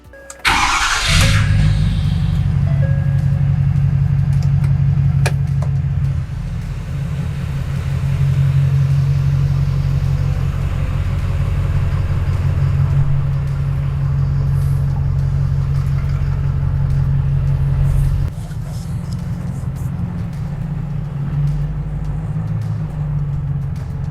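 A 2011 Ford Powerstroke diesel truck engine, freshly rebuilt, starts with a sharp burst, then keeps up a loud, steady low rumble while driving on the road, easing slightly near the end with no talking.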